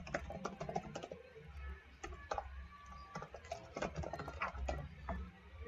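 An email address is typed on a computer keyboard, producing quick irregular clicks and taps in close, quiet bursts with brief pauses between keystrokes.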